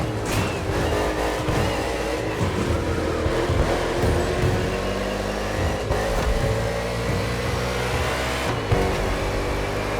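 NASCAR stock cars racing through the streets of Honolulu, Hawaii, in the game The Crew Motorfest: a loud, continuous roar of engines with rising and falling revs throughout.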